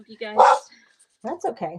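A pet dog barks and yips indoors at a knock on the door, a loud burst of a few barks early on, then people talk afterward.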